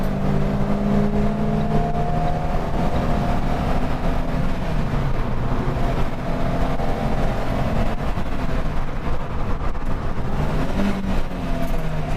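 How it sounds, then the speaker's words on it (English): Caterham sports car at full throttle climbing a hill on a track day, engine note rising and falling steadily as it pulls hard, heard at a distance without any talking. "Here we have a Caterham going absolute full send up the hill."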